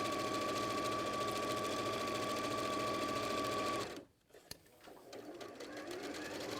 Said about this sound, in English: so you just sew it